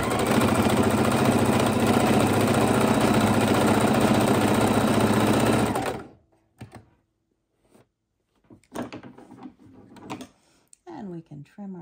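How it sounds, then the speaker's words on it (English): A sewing machine runs in one continuous loud whirring stretch of stitching on a fidget quilt, then stops abruptly, leaving quiet room sounds and faint voices. "and start sewing"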